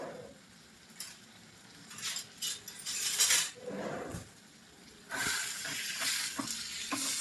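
A spoon stirs a tomato curry with turmeric in a pot, a steady sizzle under repeated scraping and clinking strokes that swell in bursts, with no talking.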